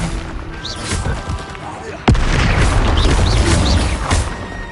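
The Bombarda explosion spell goes off in the video game Hogwarts Legacy with a sharp, sudden blast followed by a loud, sustained rumble, heard over background game sounds.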